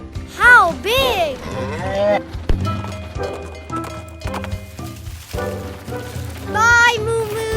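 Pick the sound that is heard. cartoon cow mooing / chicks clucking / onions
cartoon cow mooing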